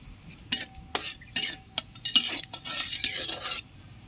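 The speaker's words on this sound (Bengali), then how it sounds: "তেল গরম হয়ে গেছে, কালো জিরে ফোড়ন দিয়ে দিচ্ছি, একটা শুকনো লঙ্কা দিয়ে দিচ্ছি" Nigella seeds and a dried red chilli hit hot oil in a pan for tempering, giving short crackling sizzle bursts mixed with metal utensil clinks and stirring scrapes, close and moderately loud, with no talking.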